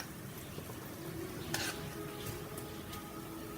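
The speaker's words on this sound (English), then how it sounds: "As you can hear, it's kind of sizzling." Thick spoonfuls of apple pie batter sizzle in a hot frying pan, a steady close crackling hiss with a brief louder burst partway through and no talk.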